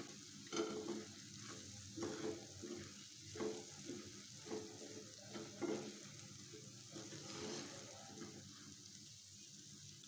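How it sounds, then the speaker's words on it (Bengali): Food frying in a pan for a snack, a quiet sizzle broken by a string of soft rhythmic stirring scrapes roughly every half second, with no talking. "ভালো একটা ফ্লেভার যতক্ষণ আসবে না, ততক্ষণ আমি এটাকে সুন্দর মতো ভেজে নেব।"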